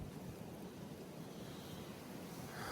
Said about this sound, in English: Wind just got to be blasting him.